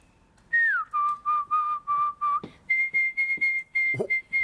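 A woman whistles the melody of a K-pop song alone, a string of short, clear, pitched notes in a quick rhythm, close and fairly loud, with a brief clatter partway through.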